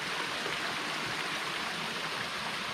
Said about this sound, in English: That's an awesome little waterfall right there. Mm-hmm. It sounds good too to my ears.